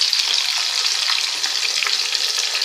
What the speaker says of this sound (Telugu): ఇలా దూరగా వేపాలండి చూసారు కదా ఇలా దూరగా వేపాలి